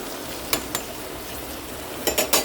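A spoon stirring brinjal curry in a pan just after tamarind goes in, with a steady low sizzle underneath and a few sharp scrapes and clinks against the vessel, close and fairly loud, without speech.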